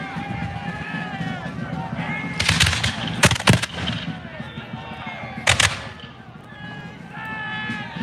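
Musket fire at a Battle of Bunker Hill reenactment, a few loud cracking volleys and single shots at middle distance, heard under steady commentary from someone talking throughout.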